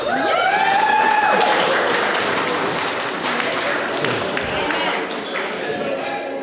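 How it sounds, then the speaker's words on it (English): Wedding guests clap together at a reception during the speeches, a dense, steady burst of applause that stays loud throughout, with some whoops and voices mixed into the crowd noise. "give yourselves a round of applause."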